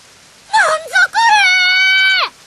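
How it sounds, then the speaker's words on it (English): Screaming voice in Steins;Gate: a loud, close, wavering scream with a brief break, then a long sustained high cry that cuts off, heard against a faint rain-like background. "Kurusu's screaming voice seems to disappear in the roaring of the pouring rain."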